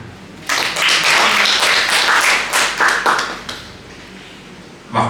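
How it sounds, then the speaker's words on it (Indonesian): Congregation applause at a church prayer service, a burst of many hands clapping that starts abruptly, holds for about three seconds, then fades, with a brief clap at the end. "Tepuk tangan untuk Tuhan."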